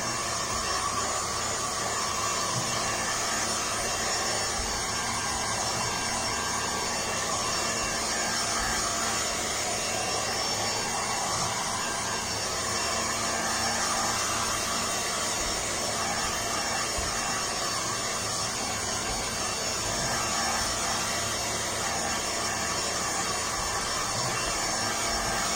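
A hair dryer blows a steady, unbroken whooshing roar over a decoupage bottle freshly coated in acrylic paint, holding at an even, close level for the whole stretch with no voices.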